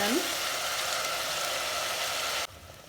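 Onions frying in a pan for an aloo-soybean sabzi, a steady close sizzle with a brief stir at the start before the sound drops off sharply near the end.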